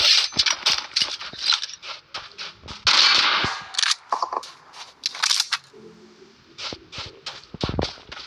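In PUBG Mobile, in-game gunfire rings out as a run of sharp, irregular shots mixed with footsteps and scuffling, some bursts close and loud, others more distant.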